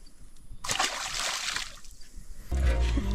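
A small barramundi tossed back into a river in remote Australia, giving a bright splash and sloshing water, followed by a louder low rumble near the end.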